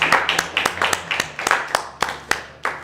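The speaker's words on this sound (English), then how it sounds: "Let's all give John a round of applause." A handful of people clapping for a speaker at a recovery meeting, sparse uneven claps heard distinctly, fairly close, for a few seconds.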